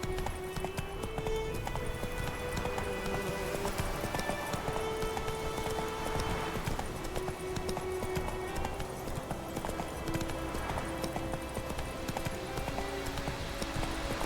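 A horse gallops in The Witcher 3 video game, with steady rapid clip-clop hoofbeats throughout, loud and close over a constant bed of game ambience and music.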